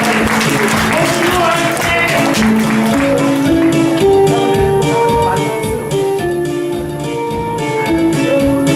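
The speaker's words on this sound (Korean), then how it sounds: "박수로 부탁드리겠습니다" Audience applause at an alumni association's annual general meeting, heard as steady, sustained clapping blended with music playing in the room at a fairly loud level.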